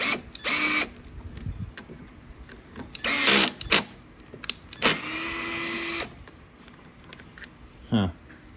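Bolts being tightened on a Craftsman lawnmower with a power driver, several short whirring bursts of a few seconds each separated by quieter pauses, close and moderately loud.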